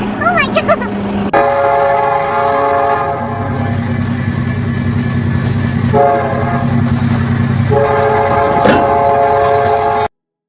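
A train rumbles past at close range with heavy wheel and rail noise, its loud horn blaring in several long sustained blasts, with brief excited voices at the start.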